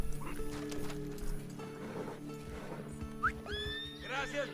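A horse in Red Dead Redemption 2 clip-clops close by and gives a short whinny, its hooves and snorts heard over game background sound with a little talk.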